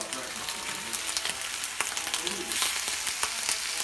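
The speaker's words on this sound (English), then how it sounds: "Right now I'm fixing turkey bacon." Turkey bacon frying in a pan, a steady close sizzle with crackling pops and occasional stirring or scraping, with no talk over it.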